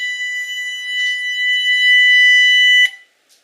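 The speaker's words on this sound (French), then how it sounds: "En ajoutant un oscillateur à transistor, un transistor de puissance et un haut-parleur, on peut même se servir de ce système pour s'en faire une alarme" A steady electronic alarm tone from a homemade circuit built with a transistor oscillator, a power transistor and a loudspeaker, loud and continuous with a sharp click near the end before it cuts off.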